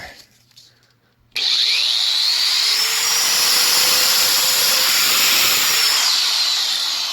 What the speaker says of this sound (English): Let's try the grinder.